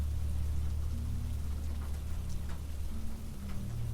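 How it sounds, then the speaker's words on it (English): Continuous soft patter of light rain against glass with a low rumbling undertone, steady and even throughout, no voices. "The rain softened further, turning into a fine mist against the glass."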